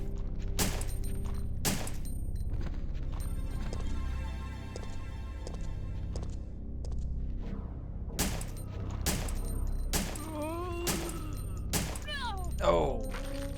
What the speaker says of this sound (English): Jilla's just wasting her bullets here.